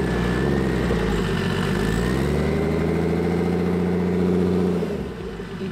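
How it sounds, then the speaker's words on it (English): A 500 hp BMW E36 M3 engine runs close by with a steady, deep, slightly lumpy idle and a brief rise in pitch before it drops and settles; no talking. "I'll go ahead and start it and I'll show you."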